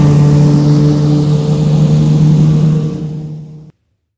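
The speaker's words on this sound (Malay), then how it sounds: "Zam, ada bunyi bot Zam." A motorboat's engine drones loudly with a low tone as it approaches. It fades over the last second and then stops abruptly, leaving silence.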